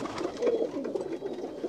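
Pigeons coo on a rooftop, soft low throaty calls repeating every few moments, fairly close with a light background hiss.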